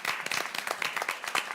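An audience claps to welcome a speaker onto a stage, a brisk burst of close, rapid hand claps from a modest crowd, fairly loud and without talking.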